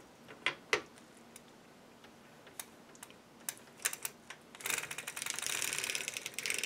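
A circular sock knitting machine is cranked while shaping a sock heel, giving scattered sharp mechanical clicks, then a denser rapid clatter of needles near the end, close and quiet.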